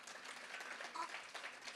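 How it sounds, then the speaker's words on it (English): An audience at a community cultural program gives a round of applause, steady dense clapping from a crowd, heard at moderate distance without talk over it. "Let's give them a big round of applause."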